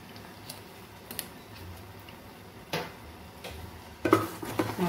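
Spoon scraping and clinking against a bowl while stirring vanilla essence into an apple almond sauce icing, soft scattered taps that grow into louder, busier scraping near the end.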